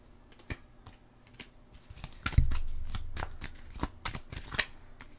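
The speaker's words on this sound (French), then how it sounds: "On va aller chercher 5 cartes." Oracle cards are shuffled and drawn at a table, with crisp riffling flutters and a series of sharp individual snaps and taps, close and alone without talk.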